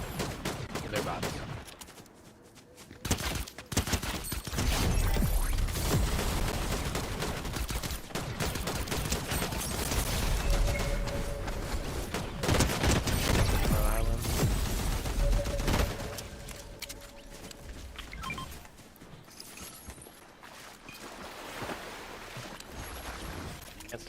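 Enemy bots firing guns in a video game, with loud, dense bursts of gunfire crackling almost continuously near a lake, the volume dipping briefly near the start and easing toward the end.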